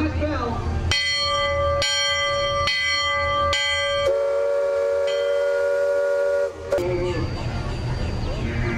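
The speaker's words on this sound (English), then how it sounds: "Sound last bell" The bell aboard the Liberty Bell paddle steamer rings four times at an even pace, loud and close, then a long resonant tone hangs and fades over steady engine rumble, followed by a brief whistle-like blast.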